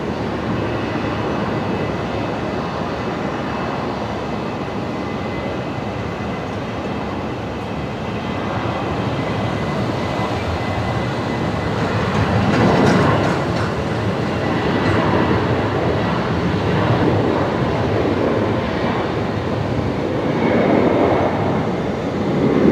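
A Velocity Boeing 737-800 jet takes off from runway 01 right at Brisbane Airport at night, its engines giving a loud, continuous broadband roar that swells gradually as it climbs away.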